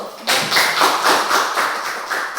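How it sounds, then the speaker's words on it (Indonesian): A classroom of students claps their hands together in a short burst of rhythmic, fairly loud and close clapping, with a few distinct beats in unison after a brief quiet start. "Jadi kita tepuk tangan dulu."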